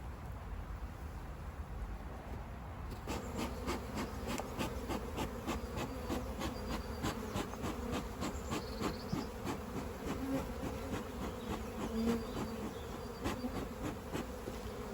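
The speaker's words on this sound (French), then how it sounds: "tu verses les abeilles par le dessus, tu refermes et tu laisses les abeilles après battre le rappel devant" A swarm of honeybees being shaken into a hive box drones in a dense, continuous buzz that swells after a few seconds and holds steady and close.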